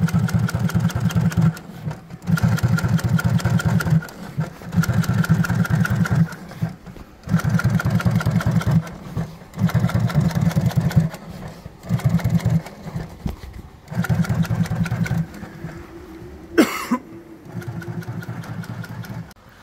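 Industrial sewing machine stitching very thick upholstery material in a saddlery workshop, running in repeated bursts of steady mechanical whirring separated by short pauses, loud and close, with a brief sharp clunk near the end.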